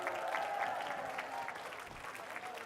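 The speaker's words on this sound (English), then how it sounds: "Let's give them a huge round of applause." Sustained audience applause at a youth conference, filling the room steadily at moderate level with a dense, even wash of clapping from start to end.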